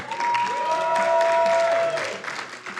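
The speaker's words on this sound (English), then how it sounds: "Keep that applause going." A crowd at a Summer Games Done Quick marathon applauds a Final Fight 3 world record speedrun, with sustained clapping and some cheering under a held electronic tone, fading toward the end.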